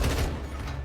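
Gunfire in the video game Modern Warfare 2, a quick loud burst of shots during a friendly-fire moment, packed into under a second.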